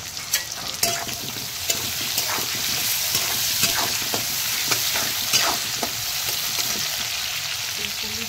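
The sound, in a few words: hog plum and salt frying and being stirred in a pan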